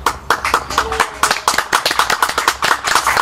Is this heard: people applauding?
yes